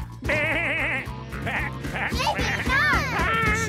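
Sheep bleating in the children's cartoon Bluey, several wavering, nasal bleats in quick succession, loud and close, with a light musical backing beneath.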